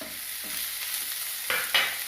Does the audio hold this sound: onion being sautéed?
yes